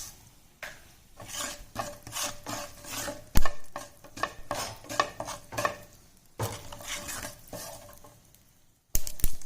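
A teaspoon of mustard seeds crackles and sizzles in hot oil with hing for mint chutney, a busy, close spatter of popping and frying broken by scraping stirs of a spoon against the pan.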